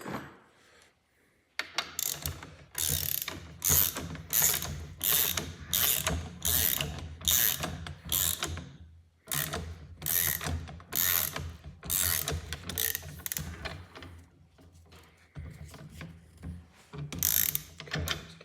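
A socket ratchet clicks in repeated short bursts of sharp pawl ratcheting as a fastener is tightened, close and loud, with brief pauses between strokes.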